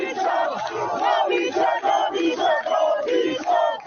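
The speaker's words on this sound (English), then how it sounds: "Huge crowd. The whole town is out." A huge crowd celebrates in the streets of Abdanan, Iran, with a whole town out cheering and chanting in loud, rising waves of massed voices that continue without a break.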